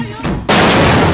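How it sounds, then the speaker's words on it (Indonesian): A bomb explodes in an Indian action film: a sudden, very loud blast hits after a brief quieter lead-in, then a dense roaring rumble fills the rest of the moment. "bom pun meledak."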